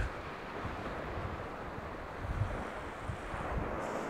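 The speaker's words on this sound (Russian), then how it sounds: "И как море шумит." Sea waves on the Black Sea shore at Vityazevo in mid-autumn wash and roll steadily, mixed with gusting wind buffeting the microphone, with no voices.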